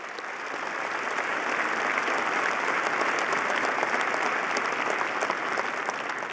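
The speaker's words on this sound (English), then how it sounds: "Why don't you give them a round of applause and thank them for their support?" Broad audience applause fills a graduation ceremony hall, building up in the first second and then holding steady and full, with no speech over it.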